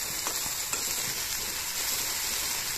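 Ginger-garlic paste sizzles with onions in hot oil, a close, steady frying hiss with faint stirring scrapes, constant and even throughout.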